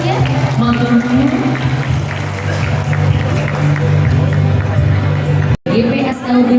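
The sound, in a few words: audience applause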